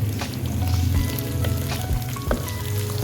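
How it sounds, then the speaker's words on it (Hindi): Chopped garlic and ginger sizzle in hot oil in a pan, a steady dense crackle with scattered sharper pops, close and loud, no voices. "ऑयल गरम होना शुरू हो गया है तो हम इसमें 2 चम्मच चॉप किया हुआ लहसुन लेने हैं और इसके साथ 2 चम्मच हम अदरक लेंगे चॉप किया हुआ"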